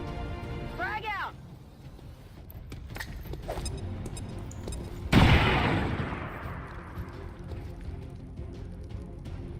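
A frag grenade explodes in XCOM 2 with a loud, sudden blast midway, its roar decaying over several seconds, amid scattered gunfire cracks and combat game sounds before it.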